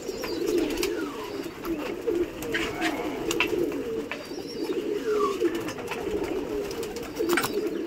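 Flock of pigeons just released from a pigeon shelter, with steady overlapping cooing and busy bird calls continuing throughout, fairly close and dense.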